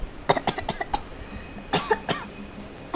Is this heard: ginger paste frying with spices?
no